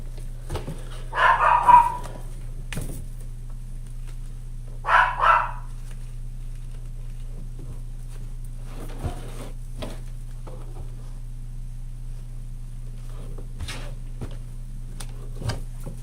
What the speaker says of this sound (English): Oh, these dogs. I don't know what their problem is today.